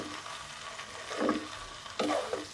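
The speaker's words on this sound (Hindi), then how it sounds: "अब इसे दो से तीन मिनट भूनना है" Food roasting in a pan for a home breakfast-or-lunch recipe, with a steady low sizzle and two brief scraping stirs of a spoon against the pan, heard close and without talk.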